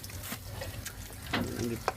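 A steady sizzling hiss of eggs frying in a pan, with a few soft clinks and faint, indistinct voices in the background.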